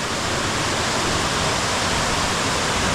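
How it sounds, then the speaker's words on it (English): Steady, broadband rush of a city river flowing over rocks, loud and continuous at close range with no pauses or voices. "this is a river in a city, so it's probably a little bit polluted"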